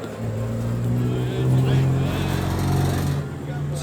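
Drifting cars on a track, including a BMW M3 and a Nissan 350Z, give a loud, sustained engine drone with steady harmonics rising and falling, heard continuously with voices talking over it.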